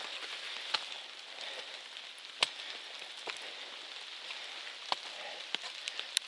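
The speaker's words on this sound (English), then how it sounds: "it's just so much condensation on the trees. So when the wind blows, it sounds like it's raining" Condensation dripping from trees on a wooded mountain slope near the South Kinsman summit, stirred by wind: a steady soft rain-like hiss with scattered sharper drops and taps, faint and close, no voices.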